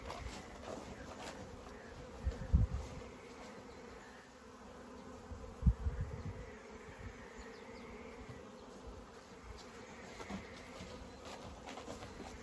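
A swarm of young honeybees gathered by a beekeeper, giving off a steady, dense, buzzing hum that stays at an even, fairly quiet level, with a few louder close passes and some handling bumps.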